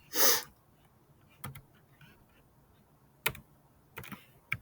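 Computer keys tapped while a customer's street address is entered into accounting software, heard as a loud opening burst followed by a few sparse, separate clicks in a quiet room.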